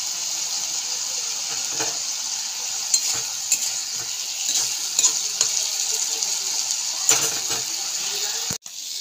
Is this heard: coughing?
no